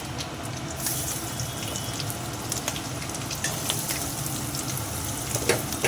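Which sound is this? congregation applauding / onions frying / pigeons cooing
onions frying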